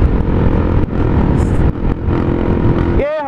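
A motorcycle with a bare-pipe exhaust revs loudly and close by in a burst of throaty blips with brief dips, and a rising whine near the end.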